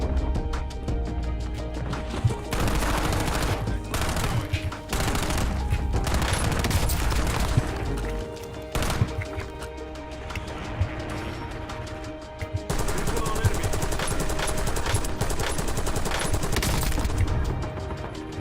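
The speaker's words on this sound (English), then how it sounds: "I started shooting because I thought we killed him." Dense video game gunfire from a player's weapon, with bursts of rapid shots and loud cracks that run almost nonstop, close and loud, briefly pausing around the middle, with little or no talking.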